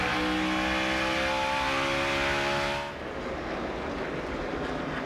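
Busch Series stock car V8 engine at Gateway, a loud onboard whine climbing steadily in pitch, then cutting off abruptly as it shifts up to third gear before resuming a lower, rougher roar.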